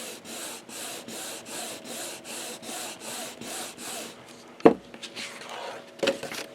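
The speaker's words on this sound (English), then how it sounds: "Okay, then we're going to burnish." Rhythmic rubbing strokes of a bone folder burnishing a book binding on a briefcase-style lay-flat album, about nine steady back-and-forth passes, followed by a couple of sharper taps and knocks near the end.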